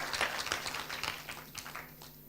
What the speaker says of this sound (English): Give her a very loud round of applause.